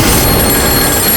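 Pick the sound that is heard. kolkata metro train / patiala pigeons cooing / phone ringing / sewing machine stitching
phone ringing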